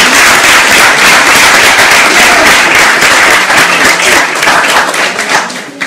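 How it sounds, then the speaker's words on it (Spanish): An audience gives the mayor loud, sustained applause, dense clapping filling the space for several seconds before easing slightly at the end. "un aplauso para el alcalde Raúl Valdés."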